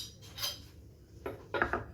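A knife slices through a rolled sponge cake filled with whipped ganache, giving a few soft close taps and a brief clink of the blade on a plate in a quiet room.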